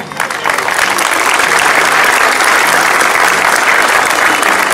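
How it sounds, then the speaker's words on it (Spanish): Crowd at a sports delegation flag ceremony for the 2017 national games gives loud, sustained applause, a dense, even roar of clapping that holds steady from start to end. "quiero solicitar un fuerte aplauso para la delegación que nos va a representar"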